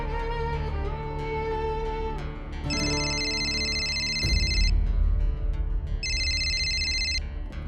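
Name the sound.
phone ringing unanswered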